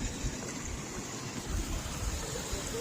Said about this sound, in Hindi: ये पानी की आवाज़ें आप सुन सकते हैं।